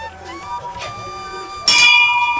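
A Shiva temple bell rings with a sustained metallic tone, then a sharper, louder strike near the end rings on.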